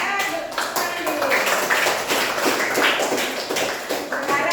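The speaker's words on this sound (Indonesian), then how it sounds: "Oke, tepuk tangan. Tepuk tangan dulu." Classroom of students clapping together at the teacher's prompt, a dense patter of many small hands that runs steadily throughout, with a voice speaking over it.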